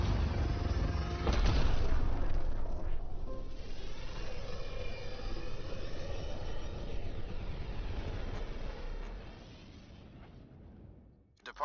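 The spaceship Tempest departing in the video game Mass Effect Andromeda, a loud rumbling engine roar with a swelling surge near the start that gradually fades out, with a voice speaking over it.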